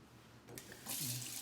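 A running kitchen tap splashes as food is rinsed under it for a chicken parmigiana, a steady close hiss of water that swells and grows brighter partway through.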